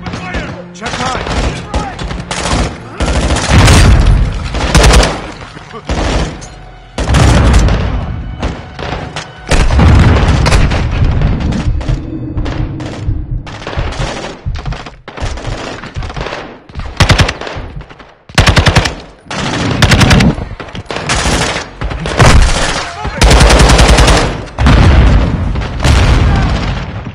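Dense automatic gunfire from the video game Call of Duty Modern Warfare II hammers loudly in repeated bursts mixed with booming impacts and explosions, with brief lulls between volleys.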